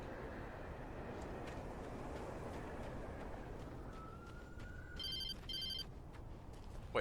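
A cell phone rings in the video game Alan Wake, a repeating electronic ring that begins partway through over a low rumbling ambience and gets louder toward the end.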